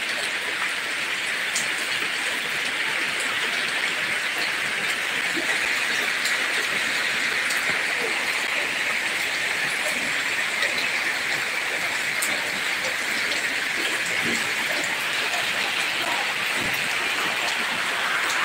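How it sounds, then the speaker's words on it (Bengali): Heavy monsoon rain in Jhalakathi, Bangladesh, pours down as a dense, steady hiss that holds unbroken throughout, loud and close with no let-up. "প্রচুর বৃষ্টি"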